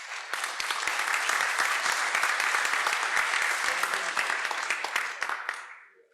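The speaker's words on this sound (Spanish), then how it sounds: "a quienes recibimos con unos fuertes aplausos" Strong applause from an audience at an arbitration congress welcoming panel speakers, dense sustained clapping for about five seconds before fading out.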